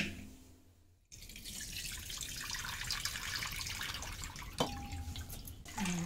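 Pearl millet (kampu) grains are washed in water in a kitchen: after a quiet start, a continuous close splashing and trickling runs on, broken by a sharp clink near the end.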